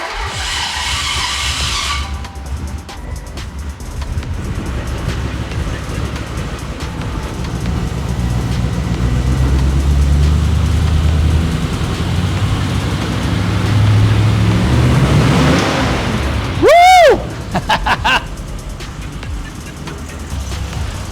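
A rebuilt Mercedes 350SL engine cranks and catches on its first start, then runs with a rough, loud, steady roar close by, with a brief sharp squeal near the end and a few voices around it.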